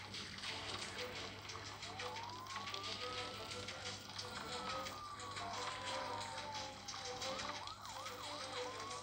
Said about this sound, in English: We have this fire truck.